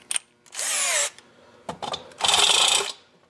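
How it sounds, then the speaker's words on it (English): Two short bursts from a power drill deburr a drilled hole in a pull bar, each whirring for about half a second, close and loud, with a quiet tick before and a small knock between them. "Just give it a little deburr from both sides"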